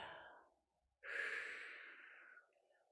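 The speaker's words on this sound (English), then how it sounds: "Exhale." A single slow, close exhalation during a gentle balance exercise class follows a softer breath and a short pause, then drifts into a faint tail.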